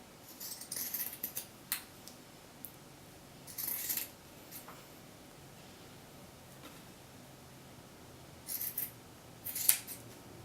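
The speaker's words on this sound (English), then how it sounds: "We're going to cut the foot off of the poodle sock." Scissors snip through a sock in a few quick clusters of crisp, close cuts, with quiet pauses and faint rustling in between.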